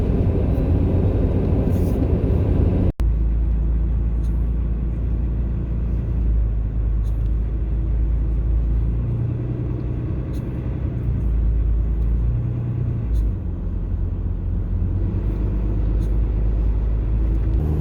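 A vehicle drives steadily down a road, its engine giving a constant low rumble with road noise throughout and one sharp click early on.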